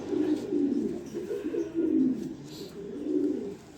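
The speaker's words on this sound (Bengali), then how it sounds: "এই হচ্ছে একটা মাদি কবুতর" A female pigeon coos close by in a run of low, rolling, rhythmic calls repeated several times over a few seconds.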